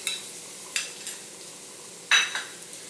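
Minced garlic sizzles in hot extra virgin olive oil in a wok during zucchini pasta cooking, a soft steady fry punctuated by a few sharp bursts as it is stirred or tossed, close and alone without talk.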